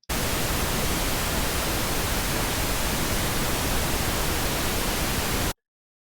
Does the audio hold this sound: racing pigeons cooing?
no